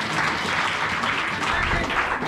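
A church congregation applauds in a sustained, dense wash of clapping, loud and continuous throughout, with voices mixed into the crowd noise.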